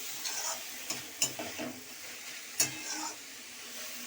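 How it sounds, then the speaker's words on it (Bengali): Banana stem (thor) frying gently on low heat in an uncovered pan, a soft sizzle with a few sharp stirring clinks and scrapes, fairly quiet, no voices. "এটা আস্তে করে ভাজতে হবে, এটা চাপা দেবো না, এই কম আঁচ করে ভাজবো"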